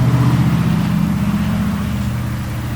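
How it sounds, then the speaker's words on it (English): A loud truck passes nearby, a heavy low engine rumble that stays strong and slowly eases over a few seconds. "let me wait for that loud truck to pass"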